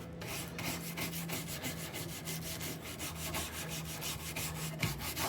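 A brush scrubs Citristrip paint stripper over a wooden surface with steady, rapid back-and-forth rubbing strokes, close and continuous, over a low steady hum.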